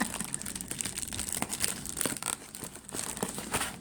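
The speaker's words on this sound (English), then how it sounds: "Let's put tape across." Packing tape is pulled and pressed across a shipping box, giving close, dense crinkling and tearing with sharp sticky crackles over a few seconds. The sound is moderately quiet and no one speaks.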